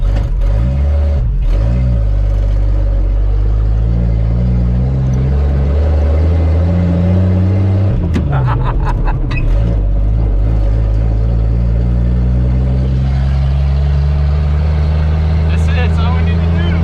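A car with custom mufflers drones with a loud, deep, tractor-like rumble from inside, the pitch shifting as it revs and changes gear, with people talking over it.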